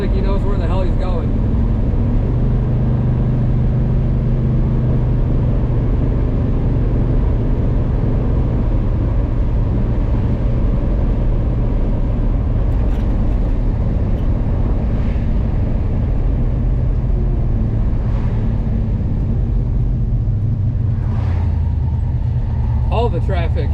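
A 1979 Chevrolet El Camino cruising in traffic, heard from inside as a steady, loud low engine and road rumble that stays constant throughout.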